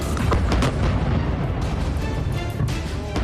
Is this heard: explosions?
yes